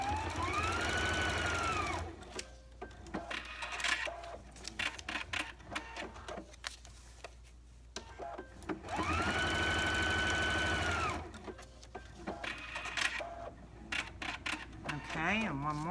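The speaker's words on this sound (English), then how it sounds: "I'm going to sew." A sewing machine stitches a paper-pieced quilt block in two loud, steady bursts, separated by quieter handling noises and a person talking between runs.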